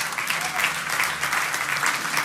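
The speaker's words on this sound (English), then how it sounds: "Let's give the Lord a clap offering." A church congregation claps together in steady, dense applause, the sound filling the room at an even level throughout.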